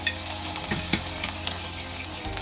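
Ghee-fried cashews and raisins are poured into wheat payasam, giving a close, steady sizzle with small stirring scrapes and crackles throughout.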